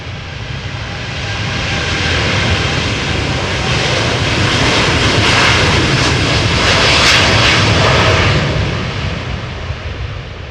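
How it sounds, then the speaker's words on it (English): KLM Boeing 787-9 Dreamliner taking off at Amsterdam Schiphol on a crosswind day: a loud, steady, broadband engine roar that swells gently and holds throughout, with no voices. "Now we're looking at KLM flight 749. This is Dreamliner 7879 to Bogota."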